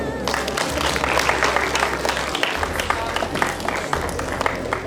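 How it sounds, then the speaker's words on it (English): A school event audience breaks into sustained, dense applause, many hands clapping together in a loud steady wash with faint crowd murmur and a low background hum underneath. "A big round of applause."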